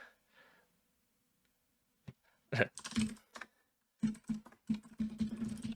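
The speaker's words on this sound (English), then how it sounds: "so you don't have to hear me typing with my loud ass keyboard" A loud computer keyboard being typed on during an online Pokémon match, with close, clacky bursts of keystrokes separated by short pauses after a near-silent start.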